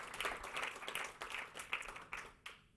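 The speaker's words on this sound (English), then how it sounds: "please give these companies a big round of applause for contributing" Faint applause from a small audience at a pitch showcase event, a scattered patter of clapping in uneven bursts that thins out toward the end.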